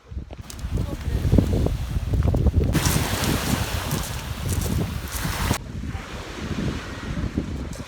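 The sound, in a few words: wind at Lake Alakol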